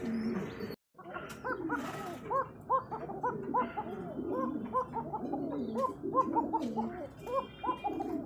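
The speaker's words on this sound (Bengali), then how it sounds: "এক তো ছোট কবুতর আর ডাকটা দেখছেন মাশাআল্লাহ।" A young pigeon coos close by in a steady run of soft, throaty calls, with a brief gap near the start and occasional faint chirps mixed in.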